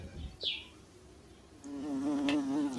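A fly buzzes in a film scene. The buzz is faint and wavering, comes and goes over a few seconds and rises toward the end, with no talk.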